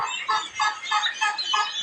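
Turkey chicks, about twenty days old, peep and cheep in a steady run of bright, repeated calls, several birds close by with no one talking.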